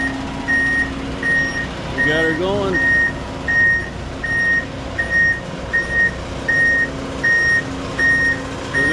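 A concrete truck's reversal alarm beeps in a steady, evenly spaced rhythm at a concrete pour, with engine rumble underneath and someone speaking briefly.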